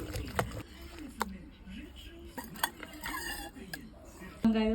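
Curry leaves stirred in a pan for homemade kollu paruppu kulambu give scraping, clinking metal-on-pan strokes with a brief sizzle burst near the end, while someone talks over it.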